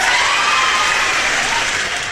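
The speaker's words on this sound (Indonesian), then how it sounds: "tepuk tangan dulu guys" Audience applause on request, a dense, even burst of many hands clapping with faint crowd cheering, loud and close, easing slightly toward the end.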